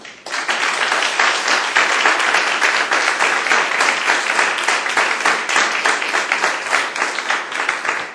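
Sustained audience applause fills a lecture hall at Yale as a lecturer on Israelite monotheism is welcomed, dense steady clapping from many hands, loud and continuous throughout with no talk over it.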